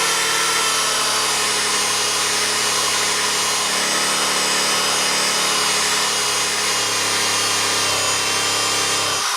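A cheap 1/4 inch electric drill spinning an orange buffing ball whirs steadily at high speed for several seconds while polishing metal with Flitz, a constant motorized hum with no breaks.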